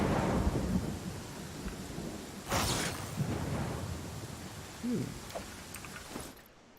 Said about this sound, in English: She's getting beat down by lightning.